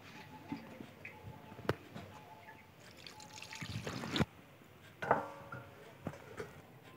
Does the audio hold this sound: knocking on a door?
no